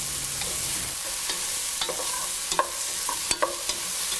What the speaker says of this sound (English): Add the slit green chilies, curry leaves together and saute for a couple of minutes.